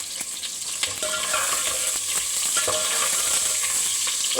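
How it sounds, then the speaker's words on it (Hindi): Sliced onions sizzle and crackle steadily in hot oil for an aloo baingan sabzi, a continuous close hiss with occasional spatter pops and light stirring, no voices. "उसी तेल के अंदर हमने सारी चीज़ों को बारी बारी फ्राई कर लेना है।"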